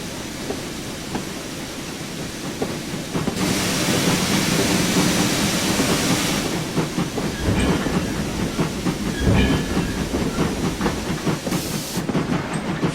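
Locomotive engine running in Train Simulator, a steady rumbling drone with broad hiss that swells louder as power is applied, holding a continuous mechanical roar with no speech.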